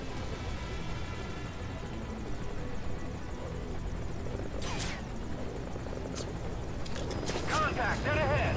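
Helicopter in the stealth action game Metal Gear Solid V: Ground Zeroes, a continuous rotor drone under radio chatter and voices, with sharp bursts of gunfire toward the end.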